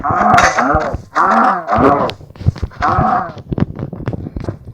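Several drawn-out mooing calls from a Minecraft cow, loud and close, followed by a run of clicks and soft thumps.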